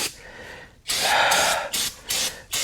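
Brake cleaner is sprayed onto the brakes of a Buick Skylark: a long hissing blast followed by several shorter bursts, close and fairly loud, with no speech.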